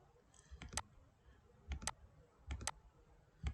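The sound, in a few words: computer keyboard typing, pressing enter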